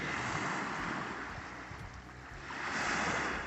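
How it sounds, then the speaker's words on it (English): Waves wash onto a beach in New Brunswick, a steady, moderately loud surf that eases and then swells again, with some wind noise. "Here's a gorgeous piece of beach"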